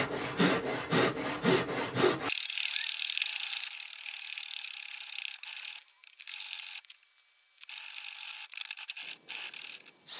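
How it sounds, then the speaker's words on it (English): A Japanese rip cut handsaw resawing wooden boards by hand, producing a rapid rhythmic rasp of strokes at the start, then scraping and rubbing sounds that come and go, close and fairly loud; no speech. "So I used a Japanese rip cut handsaw."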